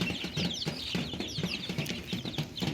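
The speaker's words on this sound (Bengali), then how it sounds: "মুরগি বাচ্চা অনেক শব্দ করতেছে, চেঁচামেচি করতেছে।" Native chicks in a crowded coop cheep and cluck continuously, a busy chorus of overlapping high calls with the occasional flutter of wings close by.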